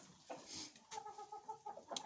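Backyard chickens cluck softly in a cold, frosty farmyard, several short, faint calls scattered irregularly close by.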